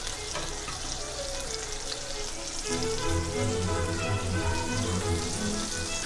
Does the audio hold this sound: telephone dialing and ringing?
no